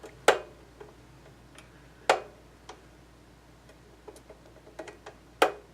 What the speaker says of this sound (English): That's the screw getting to the top of the thread and then jumping.